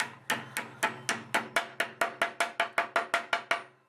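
Roughly fifteen evenly spaced sharp hammer taps drive a bushing into a C4 Corvette spindle support rod, close and crisp, each tap fading quickly before the next.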